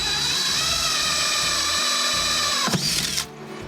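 A power drill bores a hole into a bucket while setting up an indoor chicken coop water system, whining steadily and loudly for about three seconds before the motor cuts off and spins down.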